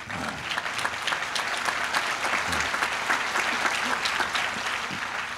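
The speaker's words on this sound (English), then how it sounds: "I noted where that applause started from." An audience at a university commencement address breaks into applause, a sustained, fairly distant wash of clapping with scattered louder claps throughout.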